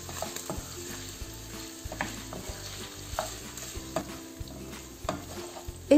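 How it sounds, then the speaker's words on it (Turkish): Salted beef kavurma fries in a pan while a utensil stirs it, a loud continuous sizzle with repeated scraping and clinking strokes, close up and with no talk. "Ve şöyle bir karıştırıyorum."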